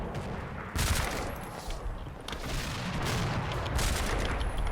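Gunfire in Combat Mission Black Sea, dense overlapping bursts of rifle and machine-gun fire with deeper artillery-like booms, continuous and fairly loud across the whole stretch, with no talking.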